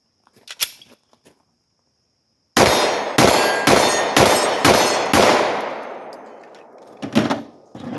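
A Glock 17 pistol fires at a target 18 yards away. Six sharp, loud shots come in an even, rapid rhythm, each with a ringing decay, followed after a pause by one more shot.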